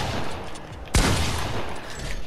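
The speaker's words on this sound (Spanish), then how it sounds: "con la escopeta y la bomba nuclear. Este sonido es orgásmico" Fortnite shotgun and nuclear bomb combo: a sudden sharp, loud blast cracks out partway through, followed by a sustained roaring rumble of explosion that stays loud to the end.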